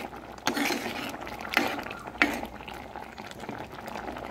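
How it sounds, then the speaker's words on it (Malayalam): Papaya pieces are mashed in a simmering curry in a pot, with soft squishing and stirring under a bubbling background and a few sharp utensil knocks against the pot. "അപ്പം കഷ്ണങ്ങളൊക്കെ നന്നായി നമുക്കിതൊന്ന് ഉടച്ചു കൊടുക്കാം"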